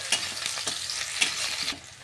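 Chopped coconut, onion and green chilli sizzle in a pan for cauliflower kachori filling as a spoon stirs them in quick, repeated scraping strokes, close and moderately loud.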